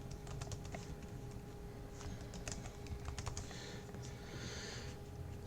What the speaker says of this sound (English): I'll set a password.